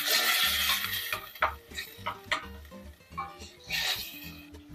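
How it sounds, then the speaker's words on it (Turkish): Minced meat sautéing in a pan with a splash of water, soft sizzling under repeated scraping and stirring strokes of a spoon against the pan, close and moderately loud. "Kavurmaya devam ediyorum."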